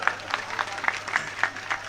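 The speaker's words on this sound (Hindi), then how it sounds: "तो सुभाष जी के लिए एक बार जोरदार तालियां बजा दो।" Crowd at a municipal election rally in Safidon applauding for Subhash ji, a modest, scattered round of clapping with individual claps standing out in a loose rhythm, fairly soft and somewhat distant.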